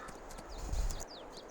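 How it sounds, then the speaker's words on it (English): Horses' hooves clip-clop in the farming video game Farming Simulator 22, faint and quick against soft background ambience, with no one speaking. "let's turn the horses around. Yeah, the horses in Farming Simulator 22 are"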